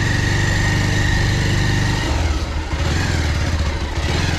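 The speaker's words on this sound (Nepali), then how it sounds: "आज बाइकले पनि साथ कति दिइरहेको छैन" A motorcycle engine runs steadily on a rough, muddy monsoon road, loud and close, with a droning rumble that shifts in pitch partway through as the bike labors.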